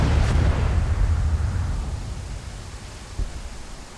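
Heavy cannon artillery fire in the Civil War strategy game Grand Tactician: a loud, broad booming blast that rolls off into a long fading rumble, with a smaller thump near the end.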